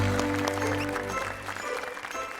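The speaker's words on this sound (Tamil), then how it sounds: "ஒரு மிகப்பெரிய ஒரு கைத்தட்டல்" Studio audience applause on a Tamil television show: a burst of clapping under ringing musical tones and some voices, loud at first, then slightly thinning.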